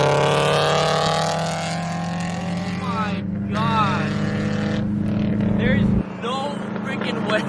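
A tuned Subaru BRZ with new headers runs loud and close, its engine droning steadily with a few crackling exhaust pops mixed in, while people talk over it throughout.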